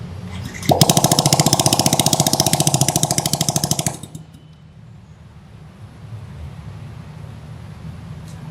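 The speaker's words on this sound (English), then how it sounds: "What does it sound like without an exhaust?" Yamaha M-Slaz motorcycle engine revving with no exhaust fitted, a harsh, loud rapid rattling burst for about three seconds before cutting off, leaving quiet background noise.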